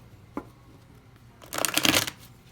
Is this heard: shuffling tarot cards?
yes